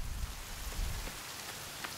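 Rain falling in the video game The Forest, a steady soft hiss of drops on the ground with a few heavier patters, continuous and fairly quiet throughout.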